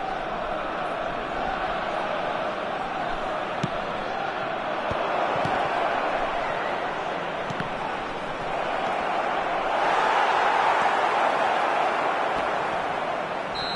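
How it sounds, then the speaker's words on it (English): Stadium crowd noise from an eFootball match fills the whole stretch as a steady roar with applause, swelling louder near the end, while a commentator talks over it. "at least the crowd are appreciative of his efforts"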